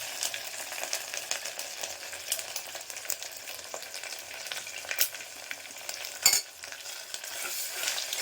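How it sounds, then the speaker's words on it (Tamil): Onions with ginger garlic paste frying in a pan, a continuous sizzle broken by scraping stirs and occasional louder clatters of a spoon, close and without talk. "வெங்காயத்தை பொன்னேரமாக வச்சாச்சு. அது கூட இஞ்சி பூண்டு பேஸ்ட்டும் போட்டாச்சு"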